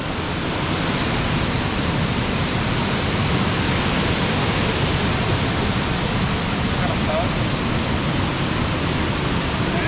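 Forest waterfall at High Shoals Falls, heard as a constant loud, dense rush of falling water that stays even throughout with no breaks.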